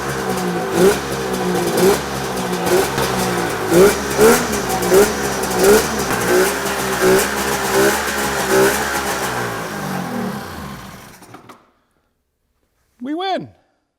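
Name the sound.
1990 Polaris Indy 650 snowmobile engine running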